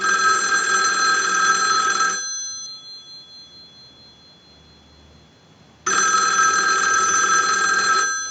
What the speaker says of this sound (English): we want to go ahead and ring the payphone